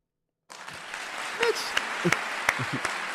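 Applause on a tech podcast: a steady wash of clapping begins about half a second in and continues to the end, with voices talking over it.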